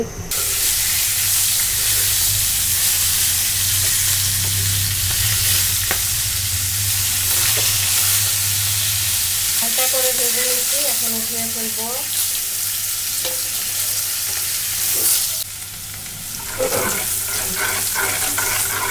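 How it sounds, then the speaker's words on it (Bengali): Chicken sizzling steadily in hot oil in a home kitchen, a loud, continuous crackling hiss that runs throughout with a few brief stirring clatters and no talk. "মুরগিটা ভাজার জন্য আমি তেল দিয়ে দিছি"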